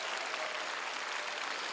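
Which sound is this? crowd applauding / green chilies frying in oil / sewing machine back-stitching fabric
crowd applauding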